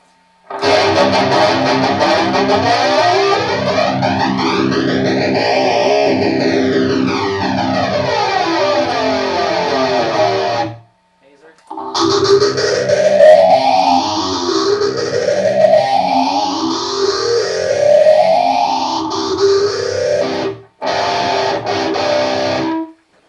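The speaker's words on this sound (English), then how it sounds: "Flanger." Distorted electric guitar through a Bad Cat Cougar 50 amplifier, strummed with a flanger effect, giving a sweeping whooshing jet-like swirl through sustained chords, with short breaks between passages.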